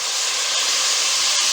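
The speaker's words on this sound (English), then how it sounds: "Yeah, there's the sizzle." Loud, steady hissing sizzle as beer is poured over spices in a hot pan while making chili at a campsite, close up and continuous, with a couple of faint clicks.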